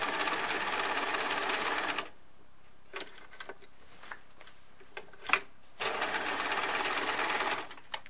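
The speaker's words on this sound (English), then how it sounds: "take baby stitches around the corner" A sewing machine makes short stitches around a chimney placket corner, running for two seconds, pausing with scattered clicks while the fabric is pivoted, then stitching again.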